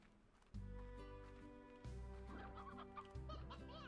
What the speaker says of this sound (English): I got two hens, yay!